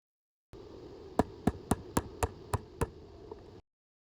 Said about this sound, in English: I install a grommet into the top hole.